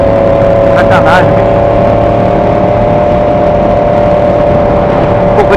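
A loud car exhaust drones steadily on a drizzly drive near Tampa, Florida, a constant close-up engine roar through the whole stretch, with someone talking over it.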